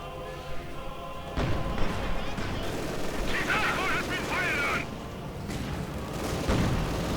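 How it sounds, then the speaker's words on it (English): Indirect artillery fire in a strategy war game, with a field gun among the weapons, lands as a series of muffled booms and thuds, one heavy thump near the end, under a dense layer of battle noise. "Taking indirect fire."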